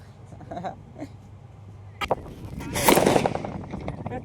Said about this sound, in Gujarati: જો તો મિર્ચી ફોડે છે.